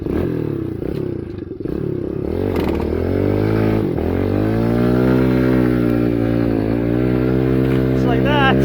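A Kawasaki KLX110 minibike fitted with a Timbersled snow kit revs hard and steadily while spinning out of packed snow, its engine droning loud and close with rising pitch, a voice briefly audible over it.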